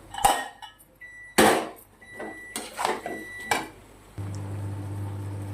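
Metal clatter and scraping as fried jackfruit and potatoes are tipped into a cooking pan, several sharp knocks close up, then a steady low hum from the stove.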